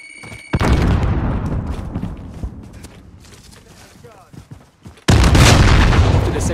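A grenade bursts with a loud, sudden boom in the video game Call of Duty: Modern Warfare, cutting in sharply after a quieter stretch of gunfire-like crackle and rumble, with voices speaking at points.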